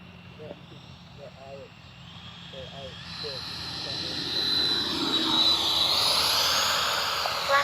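Freewing 90mm T-45 Goshawk RC jet plane flying low past with landing flaps down, its ducted-fan whine swelling from distant to loud and near as it sweeps by, with someone talking briefly at the start.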